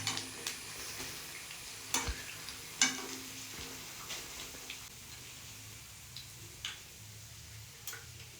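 Onion vadas frying in hot oil give a soft steady sizzle, punctuated by occasional close clicks and clinks of a utensil stirring and lifting them from the pan.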